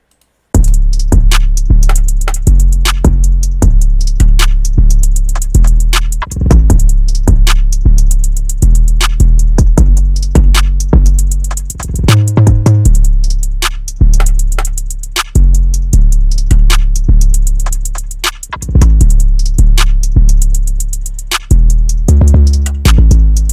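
Trap drum beat programmed in FL Studio, loud and driving, with booming low kicks, sharp snares and fast hi-hat rolls in a bouncy, repeating pattern, with a short stutter break midway.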